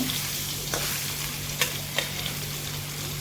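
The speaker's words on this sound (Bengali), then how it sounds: "এটাকে আমি এপিট ওপিট করে ভেজে নিচ্ছি।" Pieces of boal fish fry in hot oil, a steady close hiss with a couple of sharp spatters and light clinks as they are turned, no one speaking.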